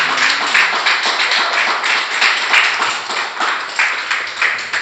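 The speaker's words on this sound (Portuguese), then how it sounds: "Pode dar um aplauso ao Senhor Jesus." Steady applause from a church congregation, dense and continuous clapping with no voices over it, holding at an even level from start to finish.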